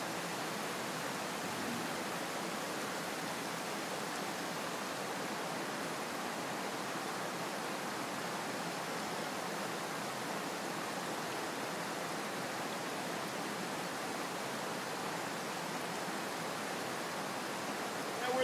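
Steady broadband rushing of a waterfall, constant and even throughout with no breaks, moderately distant and fairly quiet.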